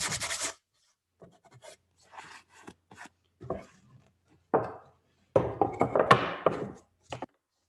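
Pencil scratching on paper during a live collage painting session, a series of short dry rasping strokes in irregular bursts with pauses between, close and fairly quiet, no talking.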